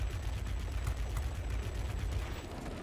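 Rapid 20mm cannon bursts from a BV P.210 heavy fighter in World of Warplanes, a dense continuous rattle of gunfire over engine drone, steady and close with no pauses.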